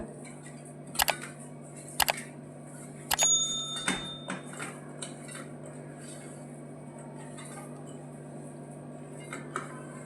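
A spoon stirs yellow food colouring into a Maharashtrian sweet mixture in a pot, giving a few sharp, close metallic clinks spaced about a second apart over a low steady hum, with no talk.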